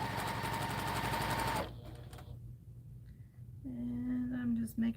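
Sewing machine stitching quilt seams runs steadily for about a second and a half and then stops. Afterward there are quiet handling sounds and a brief tonal hum, with faint talk in the background.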